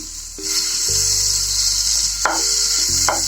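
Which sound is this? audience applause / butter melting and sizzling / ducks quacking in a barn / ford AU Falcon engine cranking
butter melting and sizzling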